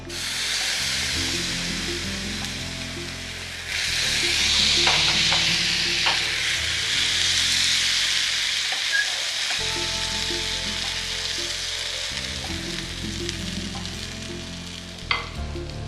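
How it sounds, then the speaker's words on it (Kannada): Rava uttapam batter poured onto a hot oiled pan sizzles loudly and steadily, with occasional scraping and clinks from stirring and handling, close up and without talk. "ಮಿಕ್ಸ್ ಮಾಡಿರೋ ರವಾ ಬ್ಯಾಟರ್ ಹಾಕೋತೀನಿ."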